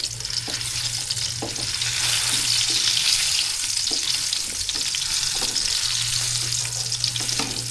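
Unpeeled garlic fries with a loud, bright, continuous sizzle in a pan for ginisang upo, with occasional stirring scrapes and a low hum running underneath.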